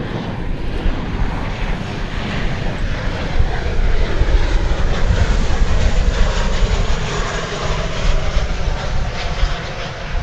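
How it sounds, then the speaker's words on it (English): Alaska Airlines Boeing 737-900 jet on the runway at Dallas/Fort Worth airport, a loud, steady broadband engine roar that swells slightly mid-clip and holds throughout, with no voices. "it's Alaska Flight 392 from Portland, a 737-900, right here on Runway DFW."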